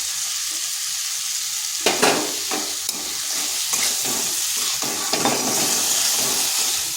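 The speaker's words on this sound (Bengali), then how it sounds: "এটাকে বেশ কিছুক্ষণ কষিয়ে নিতে হবে" Red lentils sautéing in a pan after salt goes in, a steady broad sizzle broken by scraping strokes of a spatula, close and fairly loud, with no talking.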